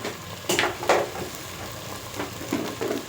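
Tempering spices sizzling in hot oil for pulao, with a few loud crackling bursts when ingredients hit the pan, then a softer steady fry.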